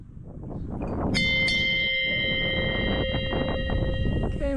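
A bell at Nudozaki Lighthouse on Cape Nudo, Japan, struck once and left ringing with a long, clear sustained tone over steady outdoor wind and road noise.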